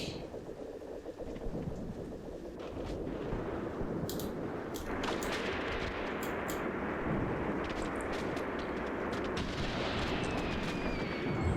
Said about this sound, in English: Still get mortar fire coming in there